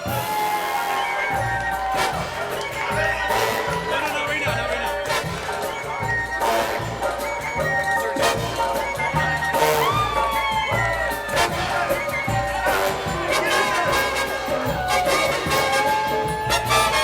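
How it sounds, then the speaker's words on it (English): Wedding guests at a Temecula reception cheer, whoop and shout over loud dance music with a steady thumping beat, a lively crowd din running throughout. "Cheer him on, everybody. Make some noise."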